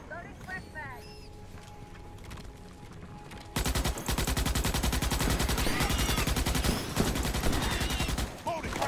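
Sci-fi shooter battle in Starship Troopers: Extermination, with rapid sustained automatic gunfire that starts abruptly and hammers on loudly, mixed with other combat noise and bullets whizzing past.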